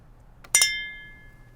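Wine glasses clinking together in a toast at MacKerricher State Park: a soft tap followed by one bright, close clink that rings out with a long fading shimmer, alone with no voices.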